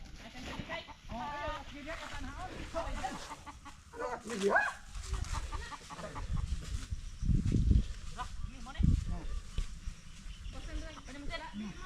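Chickens cluck and squawk close by amid outdoor commotion, with people talking and calling out over the birds.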